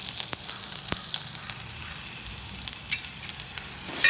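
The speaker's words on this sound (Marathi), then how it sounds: "आता मी टोप ठेवला, त्याच्यात थोडंसं तेल टाकलं, त्याच्यात मी इथं कांदा थोडासाच टाकायचा." Onion fries in a little oil in a cooking pot for a Malvani fish curry, a continuous close sizzle and crackle with faint stirring, no talking.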